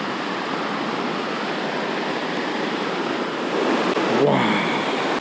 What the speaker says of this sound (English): That water is coming down quick